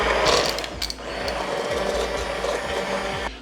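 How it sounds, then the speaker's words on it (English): Stick blender whirring through hot tomato soup, a steady, loud motorized churn with a grinding, slightly ratcheting texture that runs continuously from start to finish, with no talking. "A stick blender is nice because I don't have to worry about this exploding and blowing up in my face if I try to blend hot soup"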